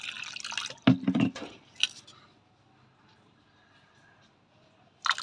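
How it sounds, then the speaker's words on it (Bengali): Cold water is poured into a roasted mango and mint sherbet, making a brief burst of splashing and gurgling near the start, then near silence with a faint drip before a short clink at the end. "ঠান্ডা জল দিয়ে দিলাম"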